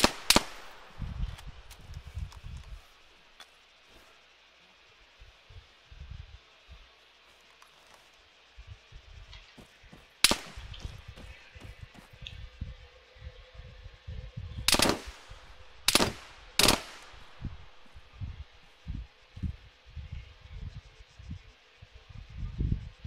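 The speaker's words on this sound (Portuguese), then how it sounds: "estão atirando em mim" Arma 3 video game gunfire with scattered single shots and a few loud, sharp bursts, plus rapid automatic fire and background game noise, no talking.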